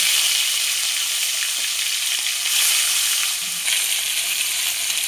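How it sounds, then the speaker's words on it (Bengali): Large katla fish heads hiss and crackle steadily in hot oil, a dense, even sizzle running throughout with no talking. "আমার তেল খুব সুন্দর গরম হয়ে গেছে। এবার মাথাগুলো ছেড়ে দেবো।"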